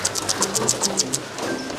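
Pigeons in a hidden loft near a house give a rapid run of about ten soft, repeated coos close by, which then fade into a quieter murmur.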